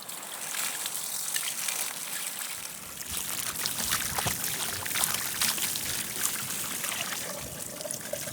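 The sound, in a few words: washing a whole ostrich carcass with water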